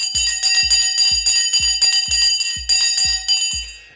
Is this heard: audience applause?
no